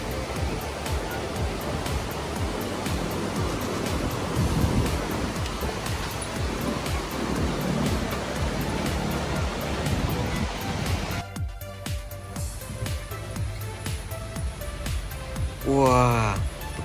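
Fast-flowing river rushing below a high suspension bridge at a garden park in Pujon, Malang, a steady broadband roar throughout that thins out near the end, when a brief rising tone is heard.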